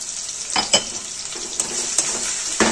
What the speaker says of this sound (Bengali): হাফ ব্রাউন করে ভেজে নেব, একটু নুন দিয়ে ভাজবো